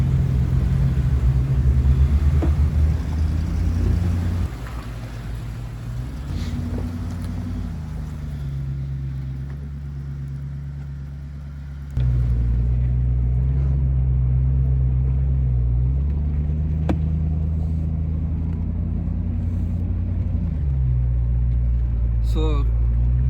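A 1995 Land Rover Discovery 1 with 31-inch tires and a 1.5-inch lift, driving off-road at an OHV area, its engine rumbling steadily with shifts in pitch as it works, loud and close, while people talk over it.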